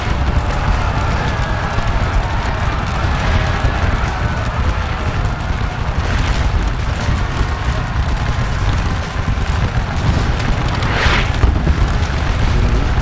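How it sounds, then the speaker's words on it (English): Artillery in a Napoleonic-era Battle of Waterloo game produces a continuous loud rumble of booming cannon fire, thick and unbroken over the battlefield for the whole stretch. "Beautiful artillery sounds too going on in the background"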